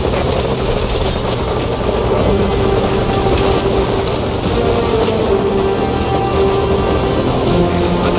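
Game helicopter from Metal Gear Solid V: Ground Zeroes, a steady loud rotor drone with continuous engine buzz, close and unbroken throughout with no talk.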